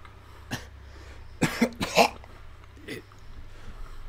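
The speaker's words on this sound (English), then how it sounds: "There was a spate of coughing." A cluster of harsh coughs, one early, then three close together, and a fainter one after, near and fairly loud over a low steady hum.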